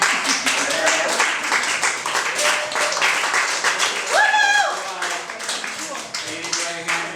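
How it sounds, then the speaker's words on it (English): An audience applauds a performer, a dense, steady patter of many hands that carries on under loud talking and a rising shout, then slowly thins out. "another applause for John Truer"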